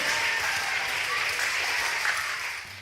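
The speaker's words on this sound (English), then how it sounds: "Give yourselves a round of applause." Children at a school music assembly applaud themselves. The clapping is brisk and continuous at a moderate level, then tapers off at the end.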